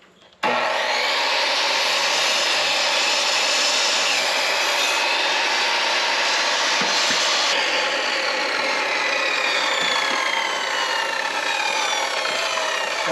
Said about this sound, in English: Is that saw gonna cut this thing?